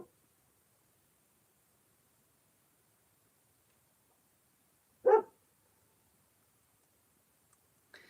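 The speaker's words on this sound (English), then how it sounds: "Excuse my dog, he's reactive to everything." A reactive dog gives a single sharp bark nearby in an otherwise quiet room, with a faint noise just before the end.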